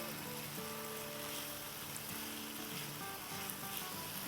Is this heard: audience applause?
no